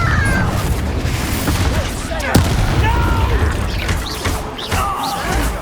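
Rolling fiery blasts and crashes from spellcasting combat in Hogwarts Legacy, a loud continuous din of explosions and impacts with shouted voices over it.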